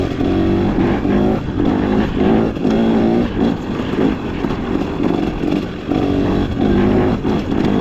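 A KTM XCW 300 dirt bike engine drones loudly and steadily while being ridden, its tone rising and falling with throttle changes, close and continuous with no talk over it.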